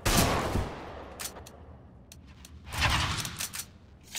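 AK rifle shots ring out in a mobile shooter game: a loud opening blast followed by scattered single cracks and a denser burst near the end, close and sharp over a quieter gap.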